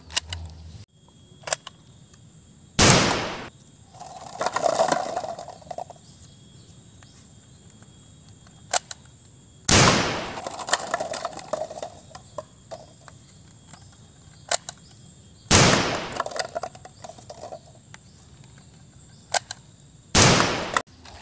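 Four loud, sharp toy-shotgun blasts from an extreme shotgun sound effect, spaced several seconds apart, each followed by a brief mechanical rattle, with faint insect-like chirping between shots.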